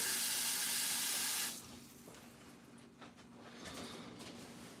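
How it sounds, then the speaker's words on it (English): Water runs hard from a kitchen tap into a sink with a loud hiss, then cuts off abruptly, leaving quieter dripping and small clinks from the sink. "Add a little more water."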